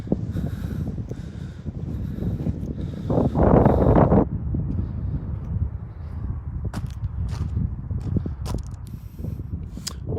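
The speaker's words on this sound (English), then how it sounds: "Very windy, difficult to hear from you." Strong wind buffets a microphone outdoors at the standing stones in Orkney, a low uneven rumble with a louder gust midway and scattered clicks and knocks.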